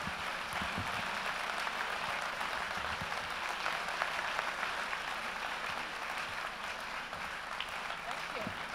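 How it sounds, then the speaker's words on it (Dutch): Long, steady applause from a party congress crowd for departing chair Letty Demmers, a dense continuous wash of clapping held at even level throughout, fairly distant and hall-like. "vergezeld van een mooi applaus"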